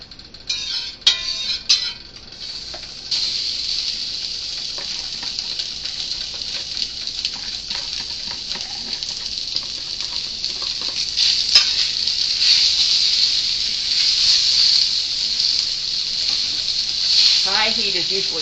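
Beef sizzles loudly and steadily in a hot wok on high heat, with stirring scrapes early on and a bubbling hiss building toward the end, no talk.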